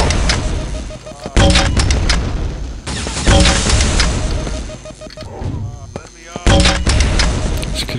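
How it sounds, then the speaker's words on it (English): Grenade launcher firing in Quake 2, heavy booming blasts repeating every few seconds over a steady game hum, loud and close, with a voice talking briefly. "Ooh, I forgot about the grenade launcher."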